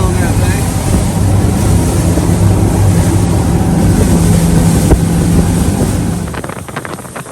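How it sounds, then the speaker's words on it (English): A big boat motor rumbles in a low, continuous drone under heavy wind buffeting the microphone on a windy fishing trip off Southport, North Carolina, fading somewhat near the end. "Big old motor on that thing."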